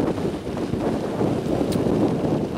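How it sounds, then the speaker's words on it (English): Strong wind buffets the microphone while riding a small monkey bike, a loud, continuous rumbling roar that never lets up. "Oh, really windy!"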